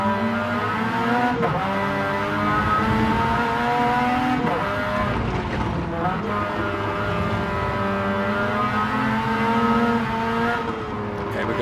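Onboard engine of a Mazda RX-7 race car in a classic DTM racing game league, a loud buzzing rotary wail rising and falling through gear changes and revs, continuous and close throughout.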